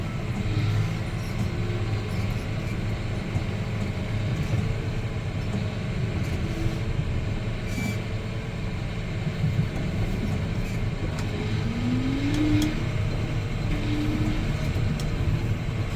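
A John Deere 6215R tractor engine drones continuously while moving at about 10 km/h, a low rumbling with shifting tones and occasional rattles, heard from inside the cab.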